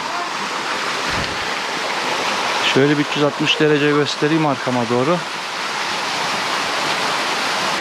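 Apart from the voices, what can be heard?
waterfall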